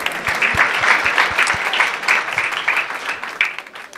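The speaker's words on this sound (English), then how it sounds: "Round of applause to whole CannaGather New York team for making this happen." An audience at a New York cannabis event applauds the organizing team, a brisk wash of clapping with some sharper individual claps, fading slightly toward the end.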